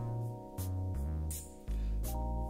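Jazzy hip-hop funk track at 82 BPM with no drums: warm sustained chords and bass shift every half-second or so, while airy bursts mark the loose groove. It plays alone, with no talking.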